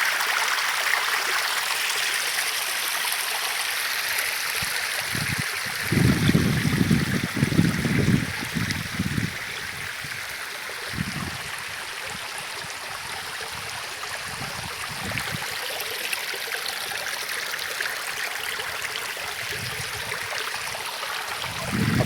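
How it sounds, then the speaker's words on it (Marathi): Mountain stream running down out of the forest and over a small rocky drop, a steady broadband rush of water that stays continuous throughout, with a few brief louder splashes partway through and no voices. "पाणी एकदम वरनं येतोय जंगलातून."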